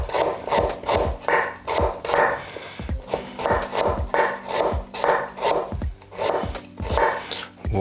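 A knife slices ginger into thin julienne strips on a cutting board, quick rhythmic taps in steady runs broken by brief pauses, close and crisp.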